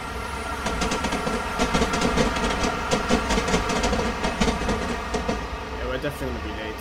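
A train on the Chiltern Main Line from Marylebone to Oxford runs in Train Simulator 2017, with a steady engine drone and rhythmic clickety-clack of wheels over rail joints, continuous and close throughout.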